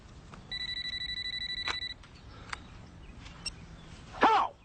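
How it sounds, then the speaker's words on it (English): An old-style telephone bell rings in one rapid, trilling burst of about a second and a half, fairly faint, with a few clicks and a brief rustle after it. "Oh. Phone."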